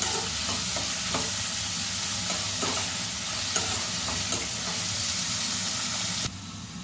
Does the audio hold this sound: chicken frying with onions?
yes